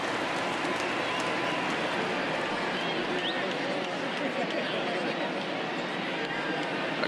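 A baseball stadium crowd of more than 37,000 in MLB The Show 20, Mariners versus Phillies, roars in a dense, sustained wall of cheering as they rise to their feet, with a commentator talking over it.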